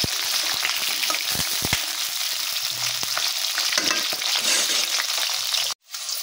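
Potatoes fried in oil in a wok hiss continuously and close up, with clattering spatula stirs early on and a sudden brief dropout near the end before the sizzle returns.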